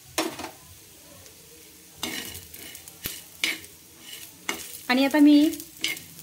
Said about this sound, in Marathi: हरभऱ्याची डाळ भाजून घेणार आहे। सोबत सर्व एकत्रच भाजून घ्यायचं आहे